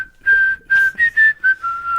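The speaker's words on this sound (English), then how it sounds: "Please don't whistle on the mic." A person whistles a short tune right into a microphone, clear and loud in several quick, separate phrases.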